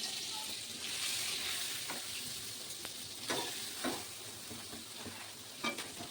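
Malpua frying in hot oil in a pan during home festival cooking, giving a steady close sizzle with occasional louder crackles and stirring scrapes, and no voices.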